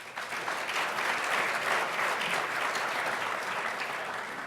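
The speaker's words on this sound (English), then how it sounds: "Let's give him one more round of applause." A symposium audience gives an award winner a sustained round of applause, dense and even clapping from many hands that stays loud and close before easing slightly at the end.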